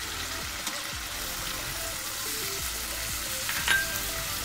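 Cauliflower and shrimp cooking in a pan, giving a steady low sizzle with occasional stirring scrapes and faint background clatter, with no talk.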